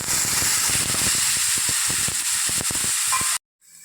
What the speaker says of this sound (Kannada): ಬಾಣಲೆಗೆ ಇನ್ನೊಂದು ಟೇಬಲ್ ಸ್ಪೂನಷ್ಟು ಎಣ್ಣೆ ಹಾಕ್ಕೊಂಡು ಈ ರೀತಿ ಕಟ್ ಮಾಡ್ಕೊಂಡಿರೋಂಥ ಟೊಮೆಟೊನ ಹಾಕಿ ಫ್ರೈ ಮಾಡ್ಕೋಬೇಕು